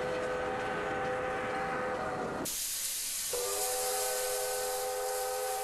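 A steam train's whistle sounds loudly with layered tones, gives way to a burst of broadband steam hiss, then the whistle returns over the continuing hiss.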